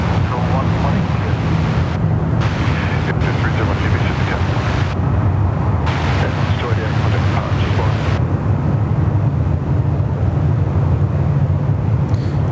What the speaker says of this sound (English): The Thai, the beautiful purple tail of the smooth as silk A350. About to join us here on runway 34 left.